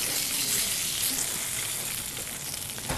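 Guinea fowl fillet searing in a hot frying pan, a steady close sizzle with crackling spatter that holds evenly throughout, with no talking.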